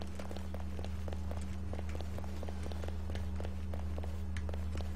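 Rapid in-game footsteps of a player running in the shooter Balistic, a steady series of short thuds repeating at a quick pace over a constant low hum, with no talk.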